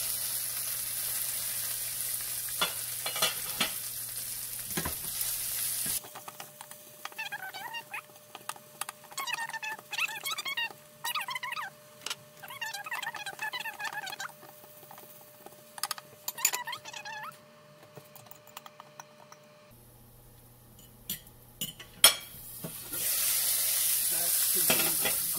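Onion and cucumber sautéing in a pan, a bright hiss of sizzling at the start and end, with a quieter middle stretch of squeaky, chirping scrapes.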